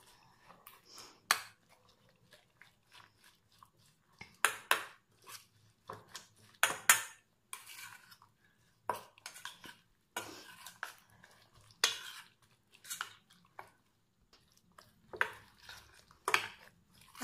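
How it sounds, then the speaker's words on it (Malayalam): A spoon mixes an oats batter with a few spoonfuls of water into a quick breakfast batter, making soft, scattered stirring strokes and scrapes. The strokes come in irregular bursts with quiet gaps between them, close but faint, and no one talks. "ഇനി ഇതൊന്ന് നന്നായി മിക്സ് ചെയ്തെടുക്കാം."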